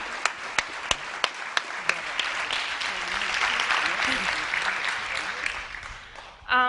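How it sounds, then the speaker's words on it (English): An audience at a youth poetry event in New York applauds, starting with a few distinct claps that swell into a steady, moderately loud round of applause before fading, with a brief burst of noise at the end. "Give a round of applause."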